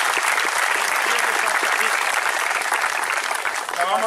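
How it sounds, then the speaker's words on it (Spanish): A crowd at a Catholic pilgrimage for Santa Rita de Cassia in Teustepe gives loud, continuous applause to the town's patron saint, dense clapping that fills the space and fades slightly at the end, with some voices mixed in. "Aplauso a la patrona del pueblo"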